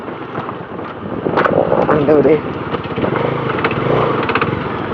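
Motorcycle ridden over a rough road in Karnataka, engine drone steady and close with rattling, wind buffeting the microphone, and a person talking over it.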